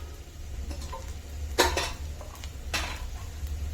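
A spoon scrapes and clatters against a pan while stirring a pickle mixture with chili powder, turmeric and salt, two sharp metallic knocks standing out over a low steady hum, no talking.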